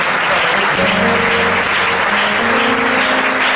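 A church congregation applauds in acclaim of the Lord with dense, continuous clapping that stays loud and even throughout, with a few voices mixed in.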